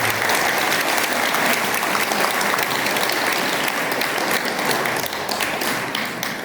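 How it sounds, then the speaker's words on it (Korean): Loud, dense applause from an audience at a Buddhist workshop lecture, sustained for over six seconds and easing slightly toward the end. "큰 박수 부탁합니다."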